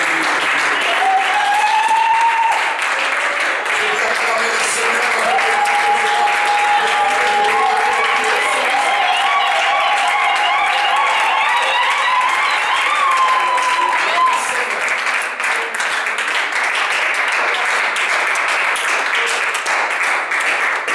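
A church congregation at a seminar applauding, sustained loud clapping from a large crowd lasting the whole stretch, with voices and cheering over it.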